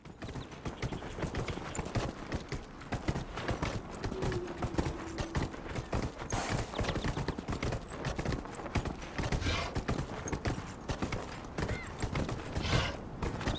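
A horse mount gallops in Dragon Age: Inquisition, its hooves pounding in a rapid, steady, continuous clip-clop that stays loud and close for the whole stretch.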